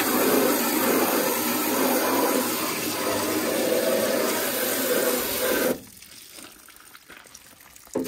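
Water sprays hard and steadily over a fuel-injected VK Berlina car for several seconds, a loud broad hiss that cuts off abruptly, leaving faint dripping and quiet ambience.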